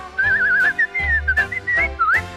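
A person whistles a lilting melody for a Hungarian song, with clear, wavering sustained notes close up over a soft instrumental accompaniment.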